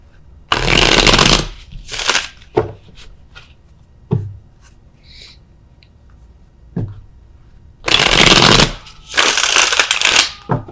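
Tarot cards being shuffled by hand in loud bursts: a long riffle, several short quick flicks and taps, then two more extended shuffling runs, close and crisp with quiet pauses between.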